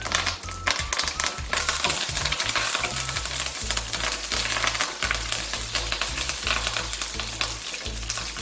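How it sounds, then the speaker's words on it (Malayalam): Curry leaves fry in hot oil with popped mustard seeds, giving a loud, dense, continuous sizzle with crackles and faint stirring scrapes, close to the pan and without voices. "കടുക് പൊട്ടിക്കഴിയുമ്പോൾ അതിലേക്ക് കറിവേപ്പില ഇട്ട് കൊടുക്കാം."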